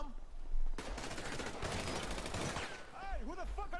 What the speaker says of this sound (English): I'm being shot at! I'm being shot at!